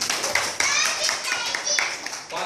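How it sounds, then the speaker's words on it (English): A first standard maths class of children claps in quick, uneven bursts, with a voice speaking over and between the claps. "Very good. Clap."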